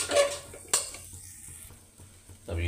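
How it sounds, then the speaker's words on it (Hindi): Sweet potato halwa is stirred in a pan over low heat, a few scraping clinks of a spoon against metal with soft sizzling between them, close and fairly quiet, no talk. "इसको चलाते रहना धीरे धीरे करके, थोड़ा धीमी आंच कर लेंगे"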